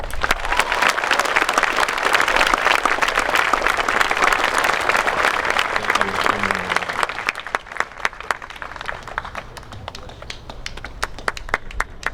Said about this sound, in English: Please give one enormous round of applause for our veterans here today.